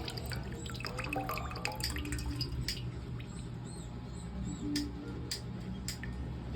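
Water drips steadily and faintly from a drain fitting into a pan, a run of small irregular ticks and plinks spread across a low background rumble, with no voices.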